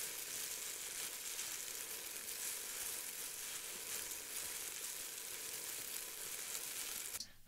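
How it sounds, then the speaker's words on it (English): Pan of food sizzling loudly and steadily, a dense even hiss standing in for rain, close and continuous for about seven seconds before cutting off. "Oops, that's our pan sizzle."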